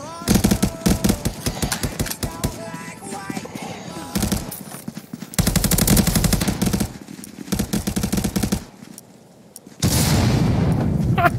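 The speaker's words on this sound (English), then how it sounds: "Damn, full auto CZ." Bursts of full-auto gunfire from a CZ in the Contractors VR online shooter come in rapid, loud volleys separated by short pauses. Distant shots and echoes fill the gaps.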